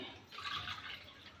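Water is poured into soaked rice in a cooking pot while making chicken biryani, a steady splashing, filling trickle that swells briefly in the middle and continues softly, fairly close and quiet, with no talk.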